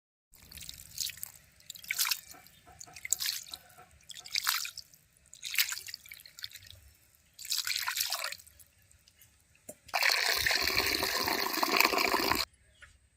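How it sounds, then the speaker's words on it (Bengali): Water is poured into hand-mixed masoor dal in a cooking pot: several short splashy pours, then a longer, steadier gush near the end, with no talking. "এক থেকে দু মিনিট খুব ভালোভাবে মিশিয়ে নিয়েছি বা পরিমাণ মতো জল দিয়ে দেবো"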